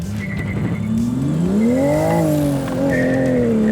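A rear-wheel-drive sports car engine revs hard and climbs in pitch as it launches from zero to sixty in sport traction mode, with a brief tire squeal and a turbo whine building toward the shift.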